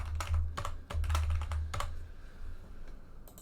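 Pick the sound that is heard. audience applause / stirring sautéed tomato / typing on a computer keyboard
typing on a computer keyboard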